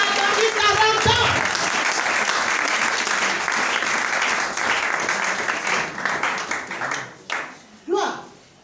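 A church congregation breaks into loud, sustained applause and cheering in praise of the Lord, a dense wash of clapping that thins out toward the end as a voice calls out over it.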